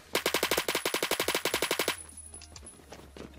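Phantom Forces gunfire: a rapid, steady automatic burst of about twenty evenly spaced loud shots, then quieter scattered distant shots after it ends.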